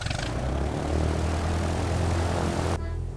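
Light aircraft engine starting up in Flight Simulator 2020, a loud continuous propeller drone that holds steady and close, then cuts off abruptly near the end.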